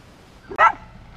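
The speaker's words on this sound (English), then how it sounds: "now the dogs all freak out." A single sharp dog bark rings out close by, brief and loud, with faint background noise before and after.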